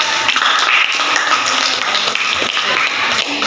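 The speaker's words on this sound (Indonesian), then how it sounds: "kita tepuk tangan dulu untuk kelompok 2" A classroom group applauds a student presentation team with dense, fairly loud clapping that holds steady for a few seconds, with no talking.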